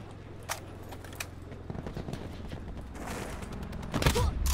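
Pistol shots in Call of Duty Black Ops 4, a few sharp cracks spaced apart early on, then a louder burst of fire near the end over a low game rumble.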